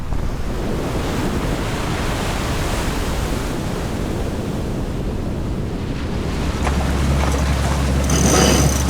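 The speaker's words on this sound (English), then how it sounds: "Some big waves there now." Big ocean waves surge around a sailing boat off Iceland in strong wind, a continuous loud rush of surf and spray with heavy wind buffeting the microphone, swelling near the end.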